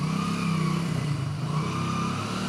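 Motorcycle ridden close by, a steady loud engine drone at constant speed without clear revving, no talk.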